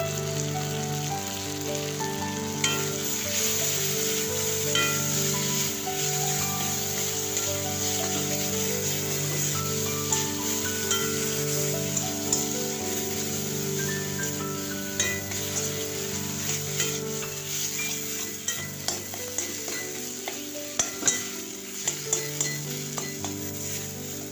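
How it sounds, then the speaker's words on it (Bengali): Mustard-cumin paste with turmeric, onion and tomato sautéing in a pan for a rui fish and prawn curry, a steady close sizzle with stirring and occasional scrapes of the spoon on the pan, no talking. "মশলাটা আমার কষানো হয়ে গেছে।"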